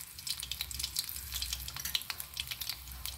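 Crushed garlic sizzles in about three spoons of hot oil, tempering for a raw mango chutney: a steady, crackling fry with scattered bright pops and spatters, close and alone with no talk.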